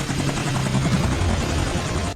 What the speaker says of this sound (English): But at that moment, Greer shows up in a chopper,